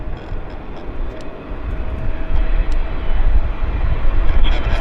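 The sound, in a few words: Boeing 777-300 airliner on short final at Vancouver airport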